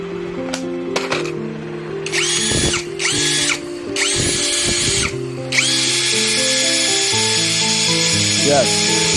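A compact brushless cordless impact drill whirs in several short bursts, then runs in one longer steady spin, loud and close, with brief pauses between triggers.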